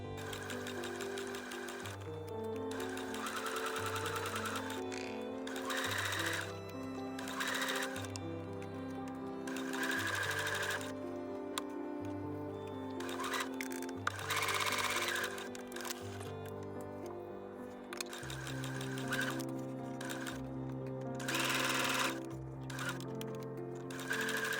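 Sewing machine stitching darts on a dress bodice, repeated bursts of rapid mechanical whirring separated by short pauses, close and clear with no talking.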